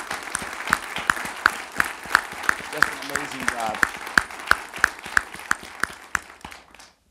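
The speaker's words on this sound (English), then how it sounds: "I would love to give him a round of applause here" A NASA town hall audience gives a sustained round of applause, with dense steady clapping that runs under a man's speech and stays strong for several seconds before trailing off.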